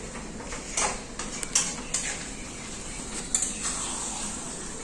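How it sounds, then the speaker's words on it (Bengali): Spices being stir-fried in a pan for a country chicken curry, with a spoon repeatedly scraping and clinking against the metal pan over a steady faint sizzle. "এবার মোটামুটি দশ থেকে বারো মিনিট আমাকে এরকম ভাবে কষাতে হবে"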